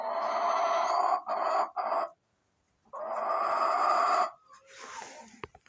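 Chickens and roosters cluck and call from close by in two loud bursts separated by a short silence, followed by softer rustling and a sharp click at the end.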